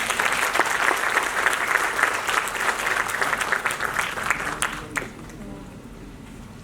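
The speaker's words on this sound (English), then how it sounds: "May we please have a huge round of applause." An audience applauds at a formal Oxford-style debate during an arbitration event in India, dense, sustained clapping filling the hall for about five seconds before dropping off to quiet room tone.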